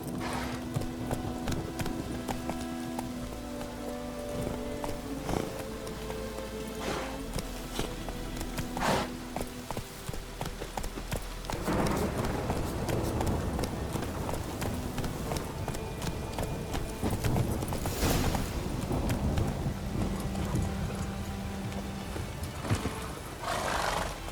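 A horse clip-clops along at a steady pace through a Witcher 3 game world, hooves drumming continuously and close over background music, with an occasional whinny and no talk.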